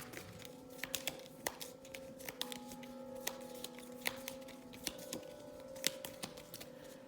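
A small deck of cards for a wargame is shuffled by hand, with a steady, faint run of soft riffling clicks and flicks over several seconds under a quiet background hum.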